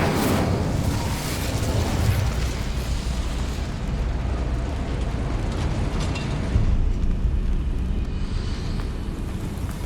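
A roaring blast of the Incendio fire spell erupts in Hogwarts Legacy, a loud continuous whooshing rumble of flames that holds steady for several seconds before easing slightly.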